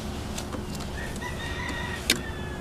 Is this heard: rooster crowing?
yes